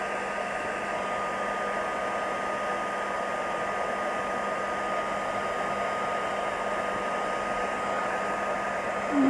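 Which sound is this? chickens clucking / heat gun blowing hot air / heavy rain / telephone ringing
heat gun blowing hot air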